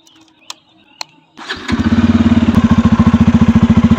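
A Bajaj Pulsar N250 motorcycle starts after a couple of faint clicks, catching with a burst, then settles into a loud, close, evenly pulsing idle from its dual-barrel exhaust.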